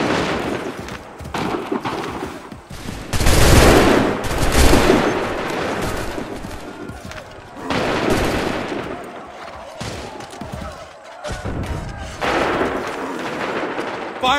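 Musket volleys crack out in the Assassin's Creed III video game, bursts of massed gunfire rolling in waves with loud peaks and short lulls between, heavy booming blasts layered over battlefield noise.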